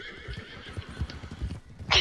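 Horses in Red Dead Redemption 2 whinny over a steady run of hoofbeats, with a louder, brighter neigh bursting out near the end.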